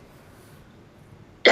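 A single sharp cough bursts out at the very end after a quiet stretch during a Hindi-language television news discussion, close and loud.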